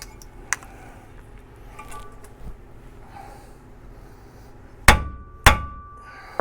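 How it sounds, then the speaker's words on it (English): Two sharp metallic hammer strikes land on a tie rod end during front suspension work, loud and close together near the end, after a stretch of quiet workshop clatter. "Give that a couple whacks with a hammer."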